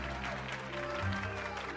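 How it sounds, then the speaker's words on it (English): Cartoon crowd cheering and applauding in the Chicken Little video game, a brief burst of clapping and cheers with game music playing underneath. "even the Chicken Little people are cheering for me"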